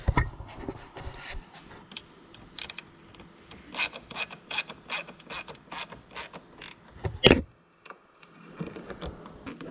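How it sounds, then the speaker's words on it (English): A screw being driven by hand into A-pillar trim on a third-generation Firebird, a run of quick ratcheting clicks and creaks in short bursts, close and fairly quiet, ending with a louder scrape. "Just getting the last screw in for the A-pillars."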